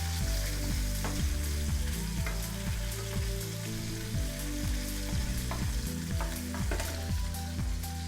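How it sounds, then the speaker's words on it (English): Garlic frying in a pan gets a quick stir, a continuous close sizzle with repeated spatula taps and scrapes at an irregular rhythm under a low humming tone, with no talking. "Just give that a quick stir so none of that's burning."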